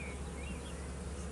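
Summer honeybees at an apiary hive buzz in a dense, continuous drone close by, steady and unbroken, with no talk over it.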